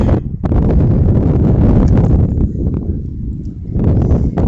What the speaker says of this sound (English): windy today, but I guess that helps blow the dust away